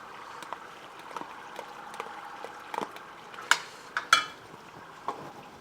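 Diced tomatoes stirred into curry in a pan, giving soft wet scrapes and a few sharper utensil clinks against the pan over a faint steady sizzle.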